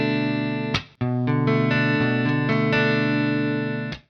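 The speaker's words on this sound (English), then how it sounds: "I am also running this guitar through a virtual amp and some effects" A software electric guitar played through a virtual amp and effects rings out with two sustained, distorted chords, the first cut short after a strum and the second held for about three seconds before fading, close and loud.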